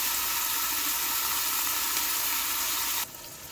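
Meat sizzling hard as it sears in a pot for chili, a dense steady hiss close by that cuts off abruptly near the end, with no talking.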